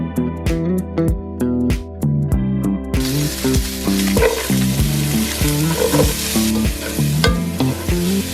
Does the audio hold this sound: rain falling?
no